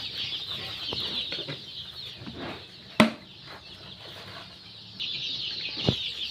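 Chickens at a poultry farm of about 500 birds cluck and chatter continuously around a freshly filled water feeder, with a sharp clatter midway and a single louder squawk near the end.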